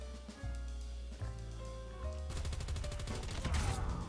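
Pistol gunfire rings out in Call of Duty Mobile, a rapid burst of sharp shots that speeds into a dense stream, over game music and effects with no talking.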